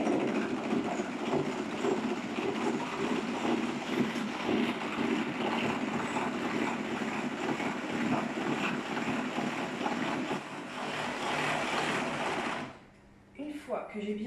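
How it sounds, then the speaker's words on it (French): An electric hand mixer runs steadily on its lowest speed, its whisks churning milk and four eggs in a continuous whirring drone that stops near the end, with a person talking over it. "Je pose mes fouets dessus. Je mets sur la vitesse 1"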